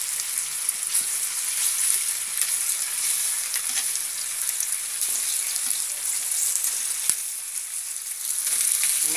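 Pork tocino frying in a pan gives a steady, dense sizzle with crackling pops throughout, close and continuous without speech.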